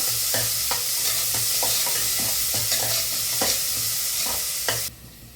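Green chillies and onions fry in a pan with a steady, loud sizzle, while a utensil scrapes and stirs in repeated strokes; the sizzle cuts off abruptly near the end.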